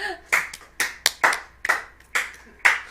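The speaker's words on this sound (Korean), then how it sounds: "please clap your hands, giving me big applause" A small group claps hands in irregular bursts, several sharp clusters of claps spaced apart with brief gaps, close and fairly clear.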